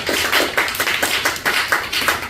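A church congregation at a Tuesday evening revival service in Incheon claps in quick, rhythmic bursts, a dense steady round of applause with no voices over it.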